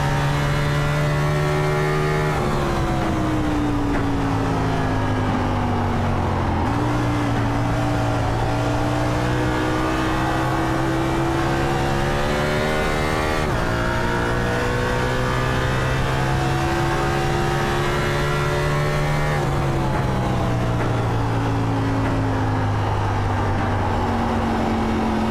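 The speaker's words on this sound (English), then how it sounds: "listen to some of these sounds on how he's being careful on the throttle and the steering motions" A NASCAR Cup car in a racing video game, its engine droning loud and continuous as the pitch climbs through the gears and drops at each shift, eased carefully on and off the throttle through the corners.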